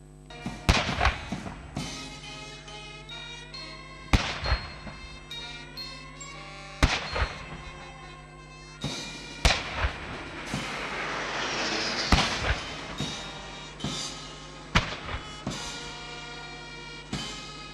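A ceremonial gun salute fired for the Zambian president at Parliament: about seven sharp, booming blasts spaced a few seconds apart, each trailing off into an echoing rumble, with background crowd noise between shots.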